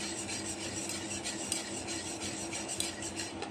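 A spoon stirs milk into a yogurt mixture for mango yogurt, giving a steady, close scraping and swishing against the bowl that repeats without pause and has no talk over it.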